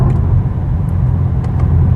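A 2022 BMW M4 Competition xDrive (G82) sports car cruising on the road, a steady loud low engine and road drone heard from inside the cabin as it eases off speed.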